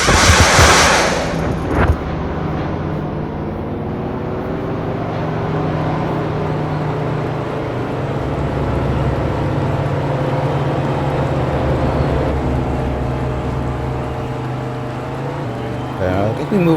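A NASCAR race car in a video game pulls into the pits on worn tires, its engine a steady, loud drone that sustains throughout with a brief burst at the start.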